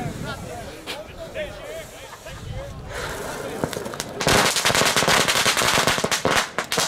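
A small firecracker bursts outdoors near orchards, followed by a rapid crackling string of pops that continues loudly to the end; people talk and murmur before the bangs begin.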